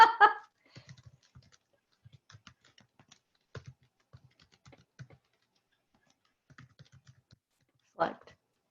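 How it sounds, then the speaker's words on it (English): Typing on a computer keyboard: quiet, sparse bursts of soft keystroke clicks spread irregularly across the stretch, with a couple of louder, sharper clatters near the start and near the end. "I keep typing the same thing over and over again."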